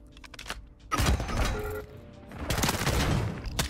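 Bursts of SMG fire loaded with frangible rounds rattle out in a first-person shooter, two dense, loud volleys with a short lull between, close and punchy.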